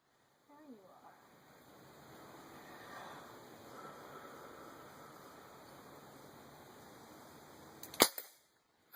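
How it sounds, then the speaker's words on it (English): A pellet gun fired at a can gives a single sharp crack near the end, after a long stretch of faint background hiss and murmur. "this is my mama shooting a pellet gun"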